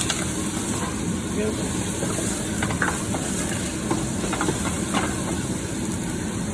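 Garlic sizzles in a hot frying pan as a dish of Cajun chicken with Creole rice gets underway. The hiss is steady and close for the whole stretch, with light stirring scrapes and a brief word spoken over it.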